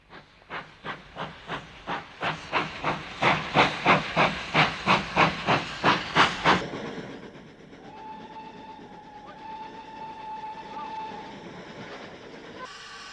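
A British steam locomotive chuffs in a steady, quickening rhythm of loud puffs, then eases into a hissing roll with a faint whistle-like tone.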